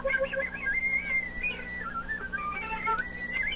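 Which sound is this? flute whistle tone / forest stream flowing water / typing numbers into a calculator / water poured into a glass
flute whistle tone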